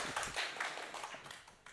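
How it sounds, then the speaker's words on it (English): A conference audience applauds a design thinking professor introduced as a panelist, a dense wash of hand claps that fades gradually over two seconds at moderate distance, with no voices over it. "Please give me a big round of applause"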